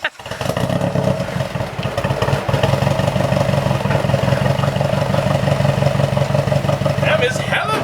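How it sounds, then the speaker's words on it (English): A Nissan 240SX S13 running rich through a Spec D catback exhaust makes a loud, deep, steady rumble close by, with a rhythmic pulsing throb that holds for several seconds after a brief quiet start. "Catback exhaust from Spec D tuning."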